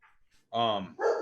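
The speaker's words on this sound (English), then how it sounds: "Oh, the dogs are barking." Dogs barking nearby in a couple of short, sharp yaps following a faint whimper, with a voice in the background.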